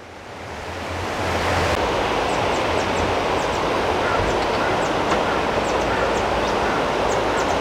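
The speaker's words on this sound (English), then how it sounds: "can you hear the sound of the water?" Rushing river water at the Grahan Nala beneath a bridge in Himachal Pradesh, a loud, steady broadband roar that swells in over the first second and then holds constant throughout.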